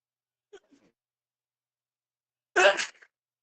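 A faint intake of breath, then a single sharp sneeze bursts out near the end, loud and close against otherwise quiet surroundings.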